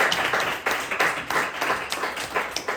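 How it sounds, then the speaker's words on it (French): A comedy-show audience in a French-speaking hall claps in a brisk, fairly regular rhythm, the sharp hand strikes repeating at a steady pace and level, with no talk on top. "Tenez un applaudissement pour cette partie de la salle également."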